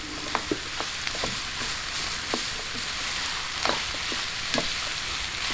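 Ground meat sautéing in a pan with garlic and onion for a Filipino meatloaf, a constant hissing sizzle broken by sharp spatula clicks and scrapes, close up with no talk.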